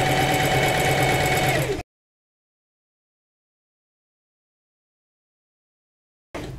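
A domestic sewing machine stitches around a cut edge of fabric for a scissors holder. It gives a close, loud, steady mechanical whirr for about two seconds, falls silent, then starts running again right at the end.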